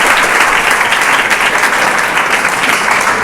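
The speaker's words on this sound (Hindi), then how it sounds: "उसके लिए जोरदार ताली बजाओ" Loud, dense applause from a classroom of students cheering a top-ranked pupil at a monthly test result announcement, steady and continuous throughout with no pauses.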